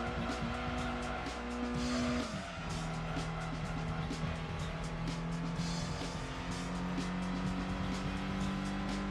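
A car in Gran Turismo 2 running flat out at top speed, its engine holding a loud steady drone with a brief pitch drop near the start, tyre noise and scraping textures over it, no talk.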